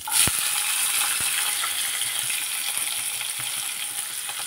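Onions sizzle in a pan with curry leaves, a steady close frying hiss with a couple of sharp clinks near the start.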